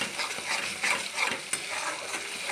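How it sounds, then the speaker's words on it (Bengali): Spice masala of Kashmiri chilli powder, turmeric, sugar and salt frying in hot oil for a prawn dish, with a steady bright sizzle and repeated scraping strokes of a spoon stirring it, close and continuous. "মশলাটাকে ভালো করে আমি কষে নিচ্ছি।"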